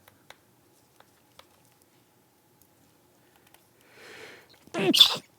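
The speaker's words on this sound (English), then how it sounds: "I had a sneeze." Quiet small ticks and taps from work on a MacBook logic board, then a brief rustle and a single sharp sneeze at the end.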